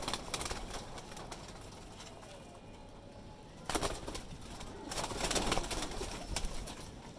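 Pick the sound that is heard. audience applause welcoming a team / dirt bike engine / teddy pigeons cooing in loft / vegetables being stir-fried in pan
teddy pigeons cooing in loft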